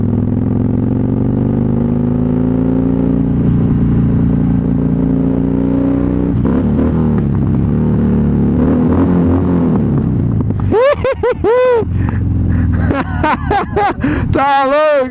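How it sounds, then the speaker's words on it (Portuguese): Big V-twin engine of a 2013 Harley-Davidson Fat Bob rumbles steadily at idle and low revs, then sharp throttle blips near the end send the revs rising and falling several times, loud and close. "Que eu acho que é o motor que tem o barulho mais lindo da Harley."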